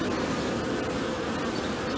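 Honeybees fanning at a hive entrance, a dense continuous buzzing hum close to the ear, steady and loud with no breaks, full of nectar-season activity.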